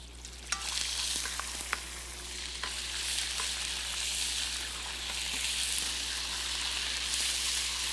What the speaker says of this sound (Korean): 그리고 먼저 고기를 바짝 볶아주세요.